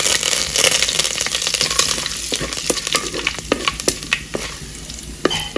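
Urad dal, dried red chillies and curry leaves temper in hot oil for a Kerala tender jackfruit stir fry. A loud, steady sizzle carries sharp scraping and clicking stirring strokes that become more spaced out toward the end, with no voices.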